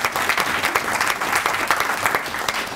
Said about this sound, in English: You can give Engineer a round of applause.